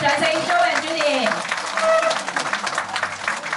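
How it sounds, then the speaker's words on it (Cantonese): An audience at a charity banquet for the elderly claps for two performers, a moderate, short burst of applause partly under a host's voice. "大家俾掌聲 Jo and Judy"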